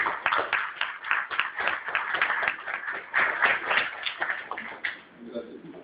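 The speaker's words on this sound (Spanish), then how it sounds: "Pues digamos como un fuerte aplauso al profesor Jorge." Lecture audience applauding Professor Jorge at a history conference, a dense, continuous patter of many hands clapping at close range that begins to thin out toward the end.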